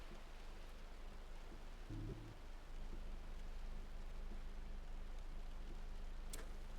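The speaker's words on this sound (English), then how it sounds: "it's extremely tough because of all this rain" Heavy rain pours down steadily during a storm chase near a tornado, a dense, constant hiss with a brief thump partway through.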